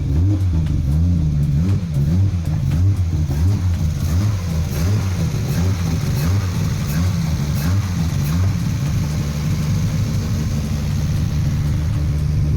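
A turbocharged Lexus IS300 engine runs steadily throughout on its first drive, giving a loud, continuous mid-pitched drone that swells and settles with throttle changes, heard from inside the car.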